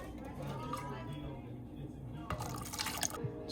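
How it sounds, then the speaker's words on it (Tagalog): Salt water solution being poured over eggs in a container, a steady trickle and splash of liquid with a louder burst of pouring near the end. "Buhos ko na ito lahat."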